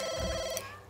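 A telephone in The Sims 2 rings with a short electronic trill that fades out quickly, heard clearly and close with no voices over it.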